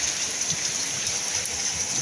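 Ice pellets in freezing rain in Dubai patter and hiss steadily in a dense, continuous wash, loud and close, with no voices.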